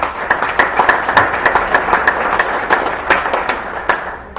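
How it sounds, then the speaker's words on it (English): A crowd of drivers at a Road Atlanta paddock meeting gives a round of applause, lively clapping with distinct sharp hand claps standing out near the microphone, steady for several seconds. "Everyone, round of applause to them."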